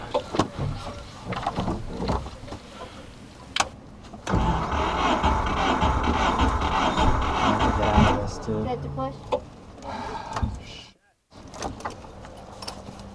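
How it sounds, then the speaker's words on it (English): After hitting a rock, a rally car's engine cranks and fires in a stretch of rough, sputtering running, with mechanical clicks and shuffling around it and people talking nearby. "If the car restarts."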